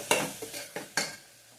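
Vegetable pulao stirred in a pan, four scraping strokes with a spoon against the metal, close and moderately loud, the first the strongest, with a light sizzle between them and no talking.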